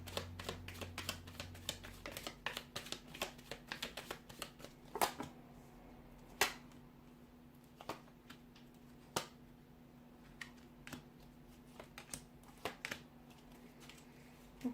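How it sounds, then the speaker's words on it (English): Tarot cards are shuffled in a quiet room, with a rapid flurry of papery riffles and taps at first, then scattered soft card slaps and flicks continuing alone. "we'll give the cards a shuffle"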